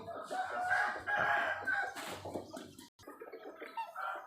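A fighting rooster on a Thai farm crows loudly and close by in a long drawn-out call, followed by a shorter second crow and some clucking, with a brief dropout midway.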